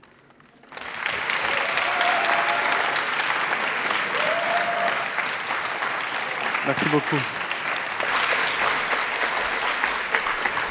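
Loud, sustained audience applause fills a hall after a verbal jousting final, rising abruptly and holding steady for ten seconds, with brief spoken thanks heard over the clapping.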